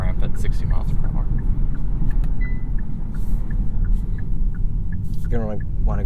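A 2023 Hyundai Ioniq 6 electric car accelerating up a highway on-ramp at about 60 mph, steady road and wind rumble inside the cabin, with someone talking over it.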